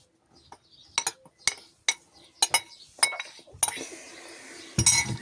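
A small spoon clinking and scraping in a bowl as flour is mixed into batter, quick irregular taps growing into a busier rustling stir, close and clear.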